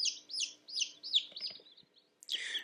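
Newly hatched baby chicks huddled under a brooder, peeping in a quick run of bright repeated chirps, close and clear, then a short burst of overlapping peeps after a pause.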